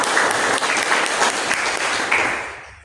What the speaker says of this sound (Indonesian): Mari kita beri aplaus untuk